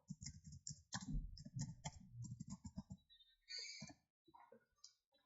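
Quick bursts of keyboard typing on a computer, close and crisp, with irregular key clicks in short runs and a brief pause before a few final taps, no talking.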